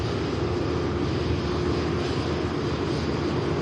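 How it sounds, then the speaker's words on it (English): An Airbus A330neo airliner, a four-year-old airframe, departs Manchester Airport with a loud, steady engine roar and broad rushing noise throughout, no voices. "4-year-old airframe heading back out on the return leg to Q8."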